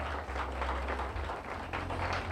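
Wedding guests applaud the bride's parents, a brief burst of clapping heard faint and muffled over a low steady hum.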